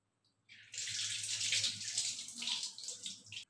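Water pours steadily from a tap or bowl onto washed tur dal for about three seconds, a close, bright splashing rush that starts abruptly and cuts off at the end.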